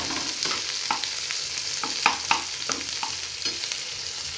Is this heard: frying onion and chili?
yes